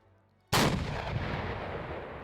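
A single heavy gun blast in a Battle of Raate Road video game battle, a sudden loud crack after half a second of quiet that rolls into a long booming decay, close and alone without speech.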